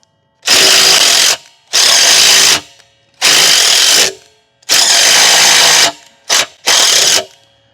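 A wrench is worked back and forth on a bolt during a camper jack upgrade, giving loud, close bursts of rapid ratcheting clicks in six runs of uneven length with brief gaps between.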